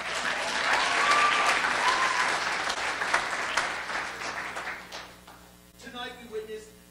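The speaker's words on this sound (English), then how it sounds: "Let's give them a big round of applause." An audience at an evening school event applauds teachers, loud dense clapping that swells and then gradually thins out, after which a voice speaks over the fading claps.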